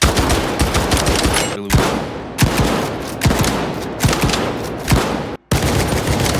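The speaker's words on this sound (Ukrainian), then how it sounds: "Заміряємо, за скільки кожен з цих дробовиків вистрілює 8 патронів, наскільки висока у них швидкострільність." A shotgun fires a rapid string of eight booming blasts in S.T.A.L.K.E.R. 2, each loud, close shot landing roughly every three-quarters of a second, with a brief gap in between and no talking.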